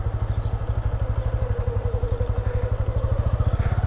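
A Bajaj Platina 110 H Gear motorcycle runs at low speed through a tight U-turn, its single-cylinder engine thumping in a fast, even, close rhythm throughout.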